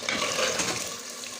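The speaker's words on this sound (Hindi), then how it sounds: "अब मैं इसके अंदर जो है ना गर्म पानी डालूँगी" Hot boiled water poured into a pan of goat trotters that have been frying for half an hour, a loud, steady hiss and sizzle with stirring scrapes, close and continuous, without talk.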